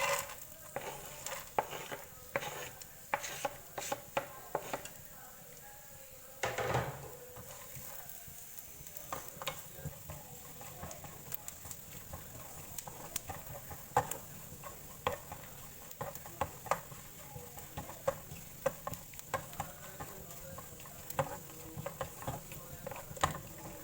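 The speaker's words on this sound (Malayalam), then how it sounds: "നെയ്യൊന്ന് ചൂടാക്കി കഴിഞ്ഞാൽ നമുക്ക് ചെറുതാക്കി കഴിഞ്ഞാൽ നാളികേര കൊത്തിട്ടുള്ളൂ" Small pieces of coconut frying in hot ghee in a pan give a steady soft sizzle with light stirring and scraping clicks throughout.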